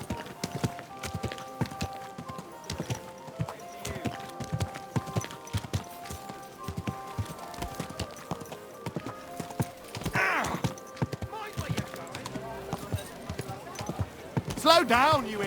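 Steady clip-clop of horse hooves trotting on a hard road in the video game Kingdom Come: Deliverance II, with people calling out over background music and a brief whinny near the end.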